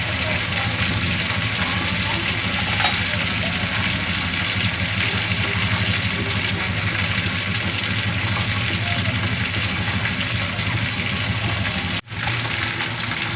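Chicken and sausage fry in a pan ahead of being cooked in white sauce, a steady dense sizzle that runs unbroken and close, with a low engine-like hum underneath and a brief dropout near the end.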